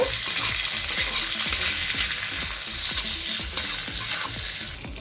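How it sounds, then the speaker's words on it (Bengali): About 100 grams of rinsed cashews and raisins fry in a pan with a loud, continuous sizzle and hiss, marked by rhythmic stirring scrapes throughout. "কাজু আর কিশমিশটাকেও আমি একটু ভেজে নেব।"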